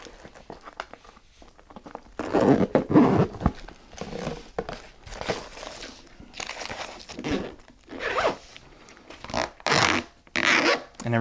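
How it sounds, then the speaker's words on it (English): Repeated zipper pulls on a small front pocket of a storage case, close and crisp, in short bursts of rasping teeth with pauses between, mixed with light handling and rustling. "there's also a little zipper at the front."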